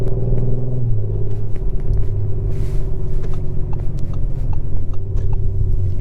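A 2023 Audi RS5 Coupe's engine rumbles deep and loud throughout, the pitch stepping down as it drops gears, heard from inside the cabin with no talking.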